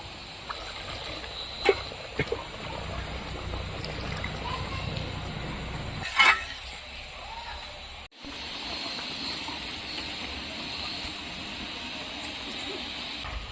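Water is poured into a pot of Gobindobhog rice during cooking for basanti pulao, a steady splashing hiss close up with a voice talking over it.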